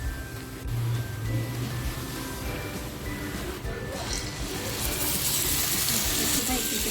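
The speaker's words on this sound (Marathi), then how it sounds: "रशाला छान उकळी आली ना की आपल्याला मच्छी टाकायची आहे" A steady, dense hiss of Ravas fish curry broth boiling hard in a pot on a full gas flame, continuous throughout with a slight rise in brightness near the end.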